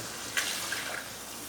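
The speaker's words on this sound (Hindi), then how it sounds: "अब इसके अंदर हम डाल देंगे पानी।" Water poured into a cooking pot for potato and rice kadhi, a steady close splashing pour that runs continuously for a second and a half with no pauses.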